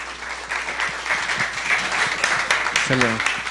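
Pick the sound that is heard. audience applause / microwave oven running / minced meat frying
audience applause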